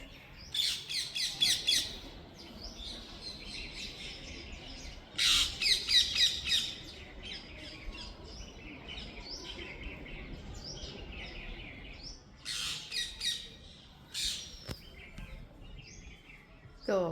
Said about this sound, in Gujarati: હા પોપટ આવ્યા આજ તો.